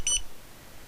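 Cipher ordering system gives a double beep, two quick, bright electronic tones close together at the start, followed by quiet.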